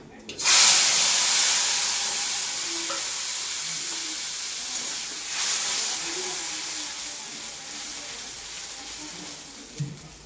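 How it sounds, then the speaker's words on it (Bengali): Mustard, ginger and garlic paste hits hot oil already seasoned with black cumin for a hilsa fish curry, bursting into a loud, close sizzle that settles into a steady hissing fry. "এইবারে আমি দেব এই যে সরিষা আদা রসুন বাটা"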